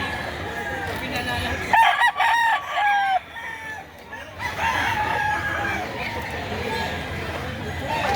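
Chickens and roosters at a Saturday poultry market in Lipa, Batangas cluck and crow close by, with a loud crow partway through, over constant crowd noise and people talking.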